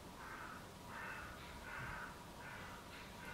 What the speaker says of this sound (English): I don't even know if you guys can hear the crows going on right now.